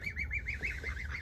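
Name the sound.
geese honking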